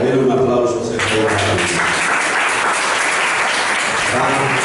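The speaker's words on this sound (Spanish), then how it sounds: "denle un aplauso al Señor" A church congregation breaks into loud, sustained applause that fills the space after a brief voice at the start.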